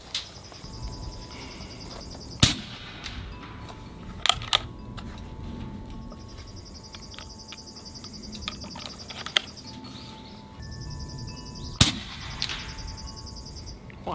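A rifle fires at ballistic gel at 100 yards, giving a few sharp, isolated cracks spaced several seconds apart over a steady hum. Each crack is loud but short, and fainter ticks and clicks fall between them.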